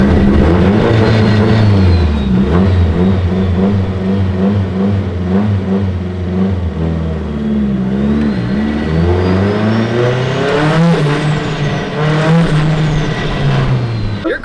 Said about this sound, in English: I am just kind of revving it for the last 20 minutes